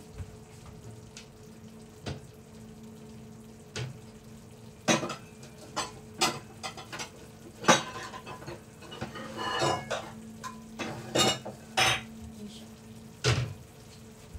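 Dishes and cutlery clink and clatter in irregular bursts over a low kitchen hum, close by, with occasional sharper knocks.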